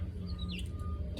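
Faint high chirps from a northern cardinal, a few short calls over a steady low rumble of outdoor background noise.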